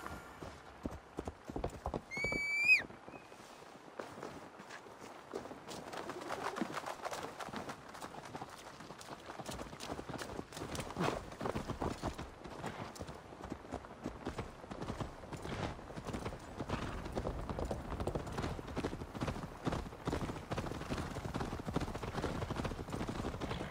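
Horse hooves clip-clopping as riders travel in Assassin's Creed Valhalla, a steady trotting rhythm that builds after a brief whinny, with characters talking under it.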